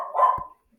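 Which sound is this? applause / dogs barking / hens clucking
dogs barking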